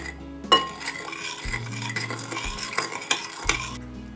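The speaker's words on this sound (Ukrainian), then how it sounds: "Розчиняємо цукор у воді" A spoon stirs sugar into water, clinking against a glass, with rhythmic scraping and a few sharp taps, close up and fairly quiet.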